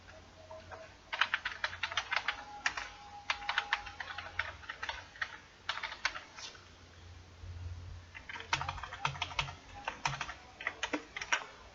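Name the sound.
typing a figure caption on a computer keyboard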